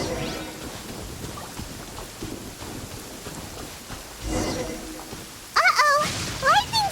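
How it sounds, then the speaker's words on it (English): Steady rain and low rumbling thunder roll through a stormy scene in the game Genshin Impact, with voices speaking over it toward the end. "Uh-oh! Lightning storm!"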